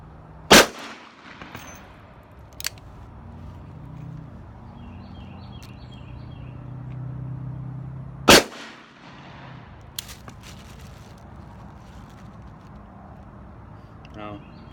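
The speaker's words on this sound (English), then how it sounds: "I'm gonna do another 7 shots, 110 grain, Winchester." Smith & Wesson 686 revolver firing 110 grain Winchester rounds single action at a range, with two sharp loud reports several seconds apart and a fainter shot between them, over low outdoor background noise.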